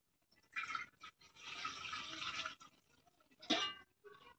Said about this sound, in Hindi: मैं भगोने में पानी डाल देती हूँ,